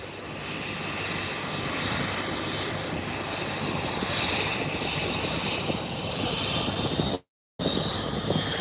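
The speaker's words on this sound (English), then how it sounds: "So the helicopter is preparing to take off now." A helicopter prepares to lift off for a crash airlift beside Highway 395 in Victorville, its engine and rotors making a loud, steady roaring whine with broad wind-like noise, briefly cutting out near the end.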